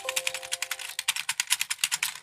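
A new computer keyboard being typed on, with a quick, even run of crisp key clicks at close range and no voices, along with a faint tone at the start.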